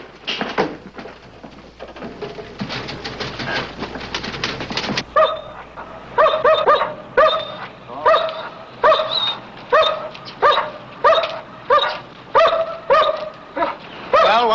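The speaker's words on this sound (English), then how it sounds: "Nice dog you got." A dog named Chief barks in a regular series of sharp, loud, close barks at about one-second intervals, after a stretch of rustling and clatter.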